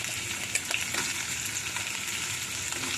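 Soaked chickpeas and vegetables fry in a pan with a dense, steady sizzle, broken by a few light scrapes and taps as a spoon stirs them.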